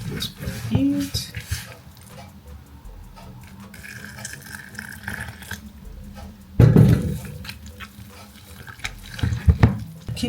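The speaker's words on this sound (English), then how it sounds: "Keep adding hot water bit by bit and keep stirring." Hot water poured bit by bit into an Okpa mixture while it is stirred, with soft intermittent splashing and scraping bursts at close range, plus a couple of louder knocks near the end.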